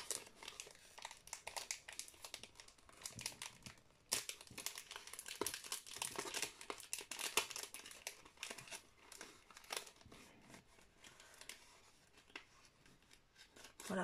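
Stuck-on plastic packaging around a set of AliExpress stickers being pulled and unwrapped, close and fairly quiet, with steady crinkling, rubbing and sharp tearing bursts across the whole stretch.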